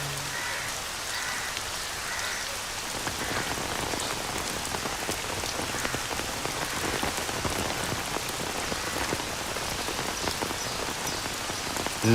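Heavy rain pours steadily near a temple pond, a dense, unbroken hiss of drops striking surfaces throughout, with a faint low tone fading out early on.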